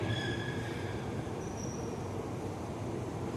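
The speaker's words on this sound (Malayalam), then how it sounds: "അണ്ടർഗ്രൗണ്ടിലുള്ള മെട്രോ ആണ് കേട്ടോ." An underground metro train in Russia runs through its tunnel with a steady heavy rumble and thin, high wheel squeals drifting in and out, loud and continuous.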